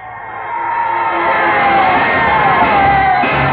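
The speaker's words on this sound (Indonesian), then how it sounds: "Orang banyak berteriak-teriak di sebelah timur. Kedengarannya seperti teriakan-teriakan pasukan perang." A crowd of soldiers shouting in the distance to the east, a battle-cry effect in an Indonesian radio drama, heard as a loud, continuous wash of massed yelling that swells slightly and holds steady.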